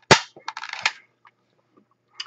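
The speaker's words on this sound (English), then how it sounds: "it shoots a delicious treat into your mouth" A PEZ candy dispenser gun fires candy with a sharp snap, then gives a quick run of clicky mechanical rattles and a few faint ticks, close and without speech.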